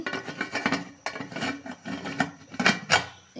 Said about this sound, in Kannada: ಕುಕ್ಕರ್ ಲಿಡ್ನ ಕ್ಲೋಸ್ ಮಾಡಿ